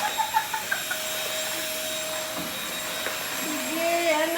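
A vacuum cleaner runs on a floor indoors, giving a steady whining hum throughout with a few knocks and bumps early on. A child and an adult talk over it.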